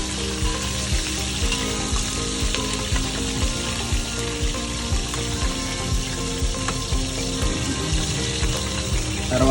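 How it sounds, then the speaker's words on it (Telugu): Green chillies dropped into hot oil while cooking mutton pulao, giving a loud, dense, continuous sizzle and crackle that holds steady throughout, close up and with no voices. "బాగా కొద్దిసేపు అయ్యాక పచ్చిమిర్చి వేసుకోవాలి ఇలాగా. అట్లా సౌండ్ కూడా రావాలి."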